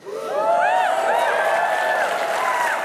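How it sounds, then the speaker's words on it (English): Studio audience applause at a talk, steady and fairly loud throughout with some cheering and whistling laced through it, sounding somewhat processed and artificial. "this applause does not sound organic at all"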